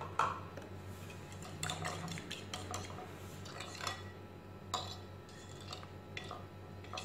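A utensil stirs an egg, sugar and milk mixture in a bowl for French toast, with close, repeated clinks and scrapes against the sides in an uneven rhythm over faint background hum.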